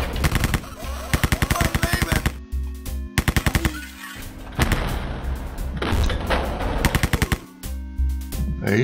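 Rapid bursts of video game rifle gunfire crack out in repeated volleys in an old-school demolition shooter game, loud and close, with short gaps and rumbling impacts between strings of shots.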